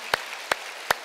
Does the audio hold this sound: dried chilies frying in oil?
no